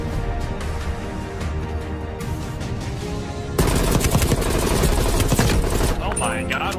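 Automatic XM4 rifle fire in Black Ops Cold War, starting as muffled rapid shots under steady game noise, then growing louder and denser, with voices talking alongside.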